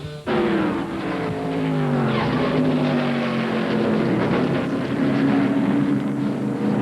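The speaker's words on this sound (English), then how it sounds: "Steve Grissom's wreck, as rugged as they come" A 1997 stock car wreck on track, with loud tire squeal and skidding sweeping in pitch across the whole stretch, starting abruptly and staying intense and close.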